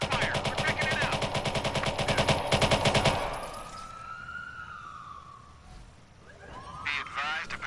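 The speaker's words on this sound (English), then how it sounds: "Squad, we hear gunfire." Rapid bursts of automatic gunfire in the video game Watch Dogs 2 rattle loudly for about three seconds, followed by a wailing siren and distant electronic effects.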